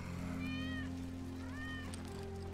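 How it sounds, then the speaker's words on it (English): Wedge's cat in Final Fantasy VII Remake gives two clear rising-falling meows in a row, moderately close. Each cry sits over a low, steady background hum from the game. "That's Wedge's cat."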